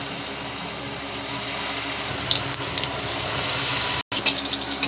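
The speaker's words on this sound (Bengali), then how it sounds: "এইভাবে লাল লাল করে ভেজে নেব" Besan-coated pointed gourd pakoras deep fry in oil with a continuous bubbling sizzle, close and fairly loud, cut by a brief dropout near the end; nobody talks.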